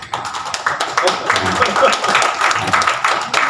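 Supporters in an audience at a political speech clap in a brief, scattered burst, with crowd chatter mixed in and no single voice standing out.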